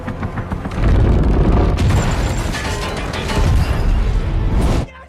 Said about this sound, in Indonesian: Ledakan yang dihasilkan berhasil mengenai helikopter Braddock, membuatnya hilang kendala lalu menabrak gedung.